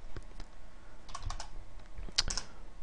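Typing on a computer keyboard at a desk, a scatter of quick clicks and clustered keystrokes, close and fairly quiet, with no talk.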